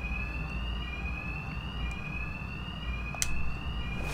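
An alarm wails in Batman: Arkham Knight, a steady, piercing electronic tone holding for several seconds over low ambient rumble, with a brief sharp clank near the end.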